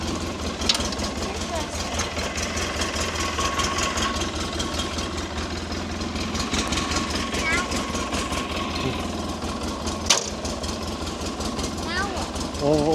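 An off-road vehicle engine idles steadily while warming up, a low continuous rumble close by with a brief knock near the end, people talking over it.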